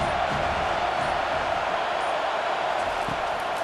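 Stadium crowd in EA Sports College Football 25 cheering on a big third down, a dense, steady roar of distant massed voices with no clear breaks.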